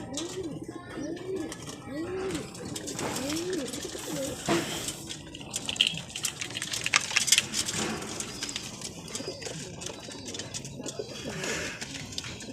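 Racing pigeons coo repeatedly in a loft after returning from a 118 km training flight from Muñoz, Nueva Ecija, with soft overlapping calls and occasional wing sounds under steady background noise.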